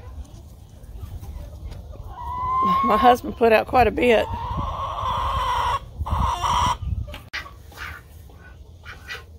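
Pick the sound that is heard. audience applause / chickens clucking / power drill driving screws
chickens clucking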